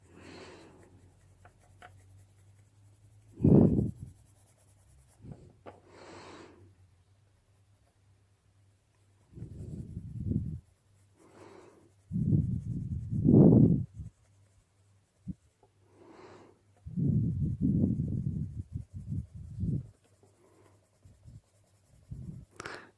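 Polychromos colored pencil rubbed firmly over paper in repeated blending passes, close scratchy strokes arriving in several bursts separated by quiet pauses, no voices.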